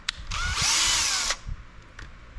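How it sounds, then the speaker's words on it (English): A power drill bores through the plastic of a Traxxas Sledge RC chassis in a single loud, close, high-pitched whine that lasts about a second and then winds down, followed by faint handling noises. "we're gonna drill all the way through the plastic"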